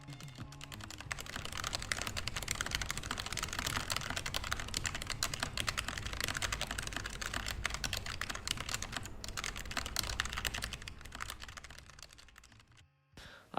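Rapid clicky gaming keyboard typing, dense and continuous, close up, stopping near the end.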